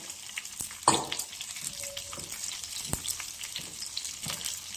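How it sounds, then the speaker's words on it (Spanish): Chili peppers sauté in a pan with a continuous moderate sizzle and crackle, broken by a few sharp clicks and stirring knocks. "Le vamos dando vuelta, que se vaya friendo, sofriendo"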